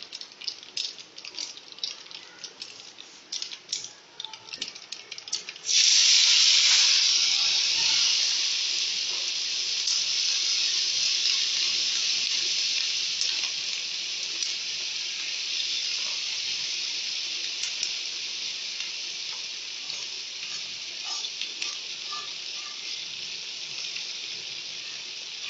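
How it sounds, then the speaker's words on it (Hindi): Mixed vegetables and spices for a homemade vegetable pickle burst into a loud, steady sizzle as they hit the hot oil, the hiss gradually easing while it fries on without any talking. "अब हम इस डिश में सारे मसाले डाल देंगे।"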